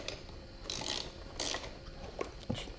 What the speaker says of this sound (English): and then tightening with your 10mm